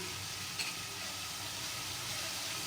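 Spices, including red chilli powder, frying in hot oil for Hyderabadi green chilli salan, giving a steady close sizzle with a faint brief scrape near the start.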